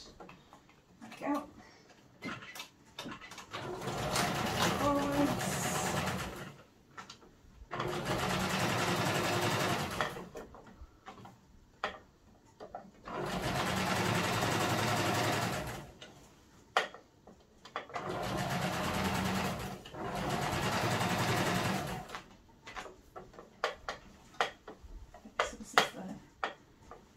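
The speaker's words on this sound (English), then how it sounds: "stitch together with a 3/8 of an inch seam or along the edge of your sewing foot" A sewing machine stitches a seam on a fabric peg bag in three long, steady runs of whirring, separated by quiet pauses with small clicks and handling noises.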